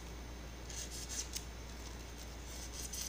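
Craft knife held sideways shaving and rounding the edges of a styrofoam car shape, soft scratchy squeaks in short bursts over a steady low hum.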